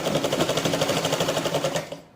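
A sewing machine stitches a blouse in a rapid, even, rattling run of needle strokes, close and loud, then stops near the end.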